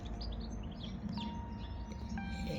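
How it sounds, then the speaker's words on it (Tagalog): Small birds chirp outdoors in late-afternoon sun, with short high tweets scattered over a steady, loud background of low rumbling noise that runs the whole time. "ibon."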